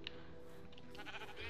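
A sheep bleats in Minecraft, a short game bleat or two rising out of steady background game sound over about a second and a half, with no speech.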